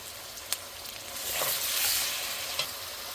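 Onions turning light brown fry in a pan with a close, even sizzle that swells briefly as they are stirred, with a couple of soft utensil scrapes and no speech.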